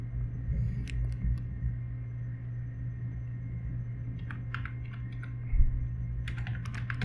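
Typing on a computer keyboard in a quiet room, steady soft key clicks with a few brief bursts over a constant low hum, no voices.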